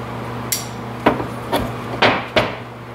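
Hammer strikes on a U-joint cap during front U-joint replacement on a 1994–2001 Dodge Ram 1500: five sharp metallic taps spaced about half a second apart, close and clear with no talking.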